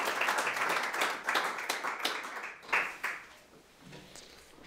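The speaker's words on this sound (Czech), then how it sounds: "můžeme ho přivítat potleskem" An audience applauding to welcome a speaker at a leadership seminar, a lively clatter of many hands clapping in a room that thins out and fades near the end.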